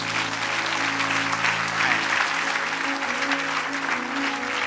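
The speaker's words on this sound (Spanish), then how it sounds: "Dale aplauso al Señor." A church congregation claps together in a steady, sustained round of applause that fills the room, with a faint voice underneath.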